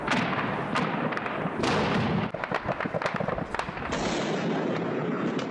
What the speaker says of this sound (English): Gunshots in one of the largest cities in the north of Iraq